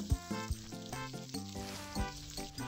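Food sizzles on a burner in the cooking game Papa's Cheeseria, a steady soft frying hiss running beneath louder, stepping game music with bass thumps.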